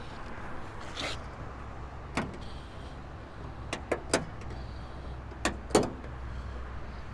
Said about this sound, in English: Let me see if I can do a better job of closing the hood.